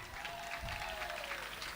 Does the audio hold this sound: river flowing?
no